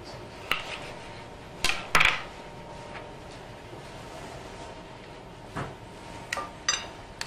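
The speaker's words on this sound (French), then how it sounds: "On va déjà choisir la bonne casserole." Chef in a kitchen handling saucepans and kitchenware while preparing a suckling veal chop: scattered metallic clanks and clinks of pans being picked up and set down, fairly close, over a quiet room background.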